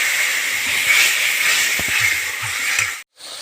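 Cumin powder, cloves and cinnamon fry in a pan for chicken curry, giving a steady broadband sizzle with faint clinks, close and continuous, then cutting out abruptly near the end.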